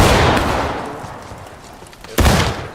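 Civil War era gunfire: a loud blast that trails off into a rolling echo, followed by a second sharp report that also rings out, with no voices.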